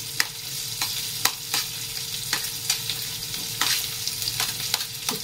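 Chopped onion frying in a pan as the start of an okra bhujia: a close, continuous sizzle punctuated by regular sharp clicks of stirring against the pan, with no voices.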